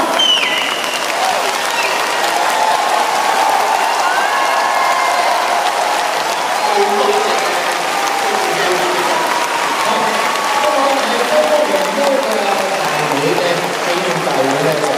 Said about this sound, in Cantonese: 我哋用掌聲